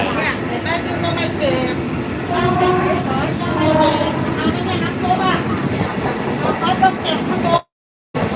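Rumbling ambience inside a crowded third-class carriage on a train to Hua Hin in Thailand, with steady rolling rail noise and passengers talking nearby throughout, then a brief cut to silence near the end.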